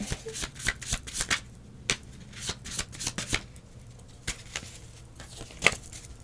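Tarot cards being shuffled by hand produce soft, irregular riffling flutters and taps in uneven bursts, close and fairly quiet, with no one speaking.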